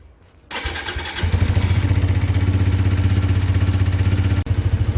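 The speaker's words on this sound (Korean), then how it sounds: "이 스마트 키가 가까이 있으면 이렇게 돌려 돌리면 이렇게 불이 들어오고 시동을 켤 수가 있죠" A Suzuki GSX-R125 motorcycle started with a smart key: a short quiet pause, a whirring starter crank, then the engine catches and settles into a loud, steady, close idle with a rhythmic low throb, briefly dipping near the end.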